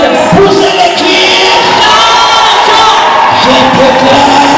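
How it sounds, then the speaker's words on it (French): A church congregation shouting out cries together during a prophetic deliverance service, a loud, dense wall of overlapping voices, whoops and yells that stays intense throughout. "Jésus, poussez les cris"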